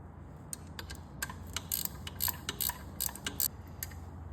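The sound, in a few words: tightening flange nut on Ford Barra alternator bracket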